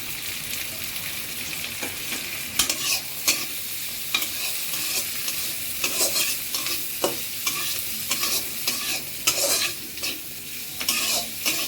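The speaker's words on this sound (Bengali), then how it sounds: "পেঁয়াজটা একটু ভাজা ভাজা করি" Onions sizzling steadily in a hot pan while a utensil stirs and scrapes in irregular bursts, close up, with no talking.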